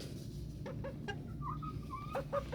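A backyard hen clucks in a few short, soft calls close by, set against a steady low background hum.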